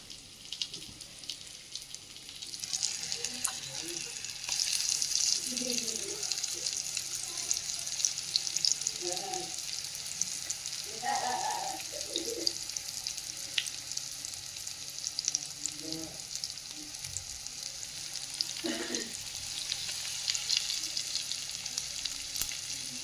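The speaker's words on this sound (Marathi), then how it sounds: "सगळ्या मच्छीला पीठ लावून मस्त फ्राय करायला चालू करून घेऊ" Flour-coated fish for a Khandeshi fish thali fries in a pan with a steady, bright sizzle throughout, broken now and then by faint clinks and soft stirring or scraping sounds.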